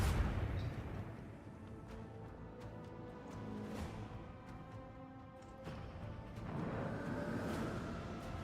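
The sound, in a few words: torpedoes launching and exploding in a video game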